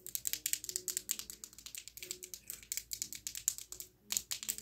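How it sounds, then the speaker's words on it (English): Close, quiet ASMR clicking, a rapid, uneven run of crisp taps and clicks like fingers on keys, with a brief pause near the end. "I can also do clicking."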